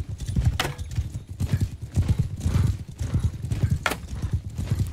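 Galloping horse hooves in the Realm of Thrones mod, a rapid, steady clatter of close clip-clops with an occasional neigh and faint background battle noise.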